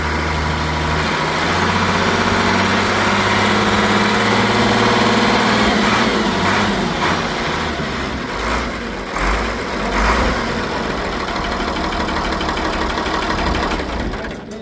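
An International 100 Hydro collector tractor idles nearby with a steady, loud low engine rumble throughout, mixed with a little background clatter.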